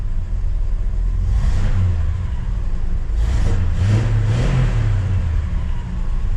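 A 1965 Jeep Gladiator J-300 engine idles steadily in neutral after fresh spark plugs, a loud, continuous close-up rumble with a few slight swells in revs and no talking.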